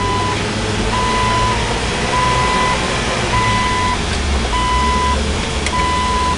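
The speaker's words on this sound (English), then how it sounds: "You pull a little forward and cut a hard 360" A 4-wheel drive truck creeps forward while cutting a hard circle, its engine rumbling steadily and close, with a regular beeping warning tone pulsing about once a second throughout.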